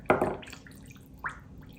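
Brine is poured into a large jar of bacon: a wet splash at the start, then a single smaller drip a moment later, close by.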